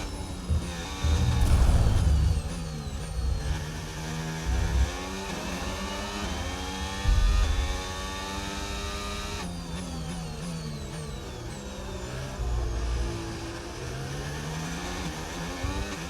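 A Formula 1 car engine in the F1 25 game at the Japanese Grand Prix wails continuously, its high pitch rising and falling through gear changes alongside low rumbling bumps.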